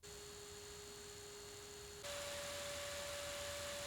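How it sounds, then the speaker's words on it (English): Cooling fan on a Tilta cage for the Sony ZV-E1 running with a steady faint whine and hiss, stepping up to a higher, louder tone halfway through as it switches from setting 1 to setting 2. "fan is audible on both settings 1 and 2 and has a mechanical whine to it"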